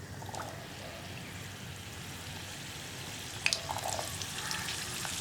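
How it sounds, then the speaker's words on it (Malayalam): Chickpeas fry in hot oil over a medium flame, a steady soft sizzle with a few brief clinks and stirring sounds partway through. "ഇത്രയും ഒന്ന് ഫ്രൈ ആയി വരട്ടെ"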